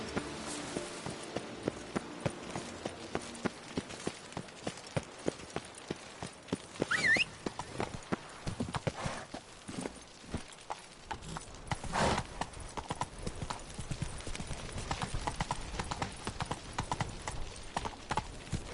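Roach, a horse in The Witcher 3: Blood and Wine, gallops with rapid rhythmic hoofbeats clip-clopping steadily across the ground, moderately loud and continuous over a faint game ambience.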